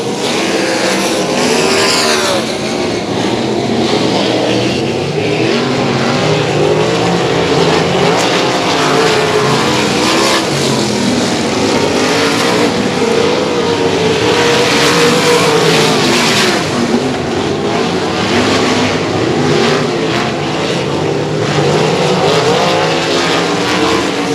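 Sprint cars racing at Heart O' Texas Speedway in a Bandit Outlaw Sprint Series event, engines roaring loud and continuous with rising and falling revs as the pack circles through lap traffic, no talk over the noise.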